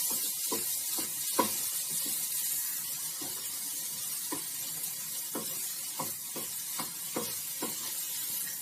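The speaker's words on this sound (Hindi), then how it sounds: "ये 1 कटोरी जितना ही मटर है हरा, ये डाल रही हूँ मैं" Green peas going into khoya frying in ghee: a low, continuous sizzle broken by a string of soft clinks and taps from stirring, close and fairly quiet.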